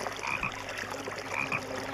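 A frog in a pond gives two short croaks, one after the other, close and clear against a faint background.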